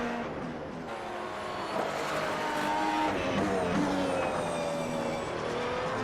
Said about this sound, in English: I love the sound of this car so much